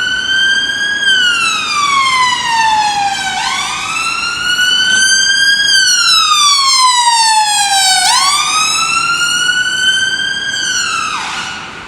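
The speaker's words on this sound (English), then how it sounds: "Third ambulance." Ambulance siren wailing in a steady rising-and-falling cycle, loud and sustained as it passes along a street in Stratford on a West Ham match day, with no talk over it.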